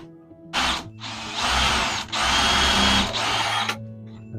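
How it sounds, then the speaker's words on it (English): A power drill countersinks holes in wood for a DIY planter box: loud, close whirring bursts, one short and two longer, with brief pauses between and no talking. "And then just countersink it."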